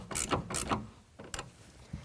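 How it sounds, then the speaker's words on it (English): A ratchet with a 9/16 socket tightens a clamp for a GatorTrax MX electric retractable tonneau cover on a 2020 RAM truck, giving three short, close bursts of clicking with brief pauses between them. "we're going to get it finger tight and then tighten it down with a 9/16."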